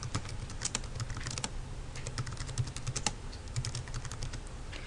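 Fingers typing steadily on a computer keyboard, a close run of quick light key clicks with small pauses, over a faint low hum and no talk.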